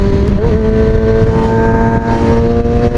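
Loud, steady car exhaust drone at high revs, a continuous engine roar close by with a slight pitch shift early on.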